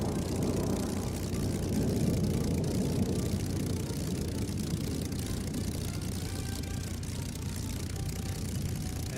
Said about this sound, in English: 6 Merlin engines passing overhead.